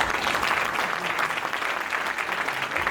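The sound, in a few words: audience applause at gala dinner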